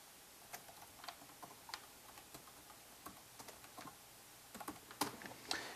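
Keys clack quietly on a computer keyboard as employee names are typed into a Microsoft Excel spreadsheet, irregular bursts of soft taps with short pauses, close and faint, with no talking.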